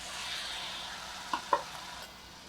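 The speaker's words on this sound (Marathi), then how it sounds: "मी इथे हे दोन टोमॅटो जे चिरलेले होते तेही घालते" Chopped tomatoes go into a hot pan for a spicy onion and potato curry, giving a steady close sizzle and hiss with two brief clinks near the middle.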